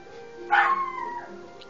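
A single sharp dog yip or bark from the video game Age of Empires III rings out once over a low, steady game background, fading quickly.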